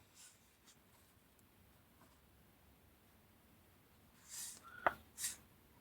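A Pen and Gear hybrid ink pen writes on paper, faint scratchy strokes at first, then a few louder close scrapes and a tap near the end.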